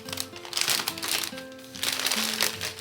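Dried sheet moss handled and squeezed, giving dry crinkling and crackling rustles close up, continuous over a few seconds, with faint tonal background sounds underneath.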